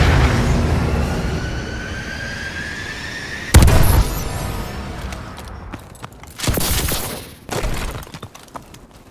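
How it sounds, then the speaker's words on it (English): Missile strike explosions rumble through Call of Duty: Advanced Warfare gameplay: a sharp, loud shattering blast at about the midpoint, then two further heavy booms in quick succession, all over a steady low battlefield roar. "Enemy missile strikes incoming."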